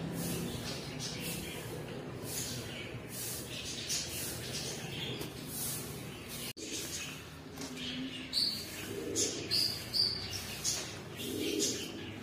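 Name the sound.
baby bird chirping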